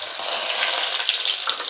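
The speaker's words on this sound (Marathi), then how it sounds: "आता आपण खडे मसाले आणि जिरं मोहरी टाकूया।" Whole spices with cumin and mustard seeds sizzle steadily in hot oil in a heated pot, a dense continuous crackle with sharp pops, close and alone without talk.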